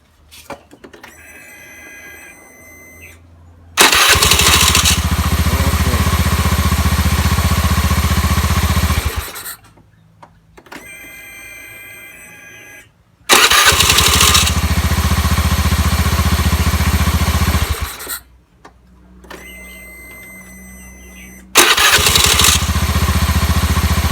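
A Honda Scoopy i scooter starts up after a starter repair: three loud bursts of running engine, each lasting several seconds, are separated by quieter gaps with faint tonal background sound.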